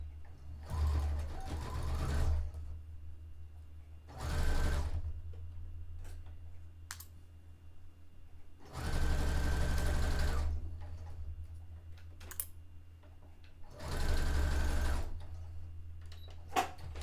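A home sewing machine running a basting stitch on a dress made from bed sheets, in four separate bursts of steady whirring and stitching, each a few seconds long, with quiet pauses between them.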